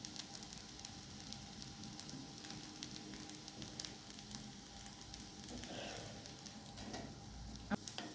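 Quiet, crackling sizzle of a panji dosa roasting on a low-flame tawa, with light irregular patter and occasional soft scrapes, faint and continuous throughout.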